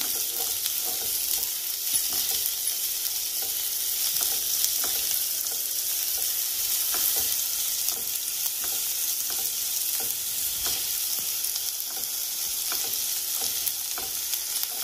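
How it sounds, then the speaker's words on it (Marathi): Finely chopped onion sautés steadily in a hot pan for a vegetable manchow soup, with a continuous sizzle and a spoon scraping and tapping at irregular intervals, close and alone without talk. "कांदा पण एक अर्धा मिनिट छान परतून घेऊया"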